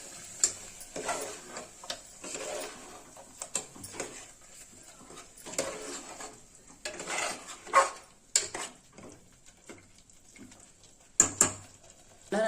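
Mutton curry with masala being stirred in a pot at home, with a spoon scraping and tapping against the pot in an irregular run of clinks and scrapes, close and moderately loud, with no talking.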